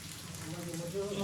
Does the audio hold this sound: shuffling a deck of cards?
no